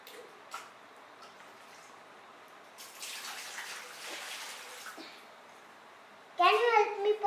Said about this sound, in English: Now, I will pour some water in the tank.